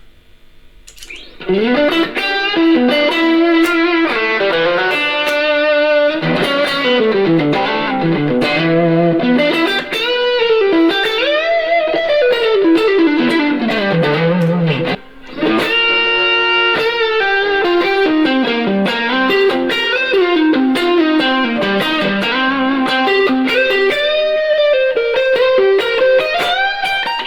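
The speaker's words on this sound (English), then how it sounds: "The fat channel also takes pedals pretty nicely. Here we've got it taking an Ethos overdrive." An electric guitar through a Mesa Boogie Mark Five 25 amp's fat channel with an Ethos overdrive pedal, gritty overdriven tone, plays sustained notes and bends for nearly half a minute, loud and continuous, no voices.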